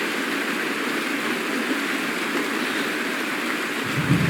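Rainfall in the game Honkai: Star Rail, a constant broadband wash of falling water, fairly close and unbroken, with a slight swell near the end.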